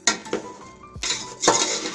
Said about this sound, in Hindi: इसे इतना भूनना है 10 मिनट तक